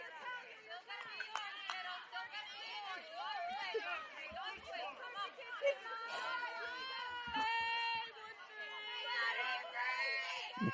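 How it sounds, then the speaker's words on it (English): Spectators at a varsity softball game make a loud, steady roar of chatter, cheers and shouts across the whole stretch, with excited voices rising and falling throughout. "The crowd is loud there."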